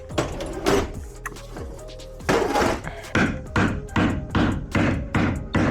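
Sharp metallic hammer strikes driving parts into place on a chassis-mounted car splitter, first a few scattered blows, then a steady run of evenly spaced hits, loud and close.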